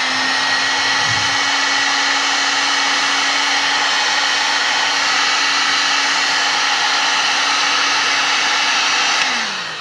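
A heat gun blows a steady, loud, close whoosh of hot air for about nine seconds, shrinking heat-shrink tubing onto a racing wiring harness for a 3G Eclipse, then cuts off at the end.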